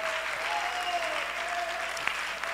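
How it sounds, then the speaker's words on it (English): A church congregation claps hands in a steady wash of applause, with a sustained tone of an organ or voice running underneath. "somebody clap your hands if you believe that"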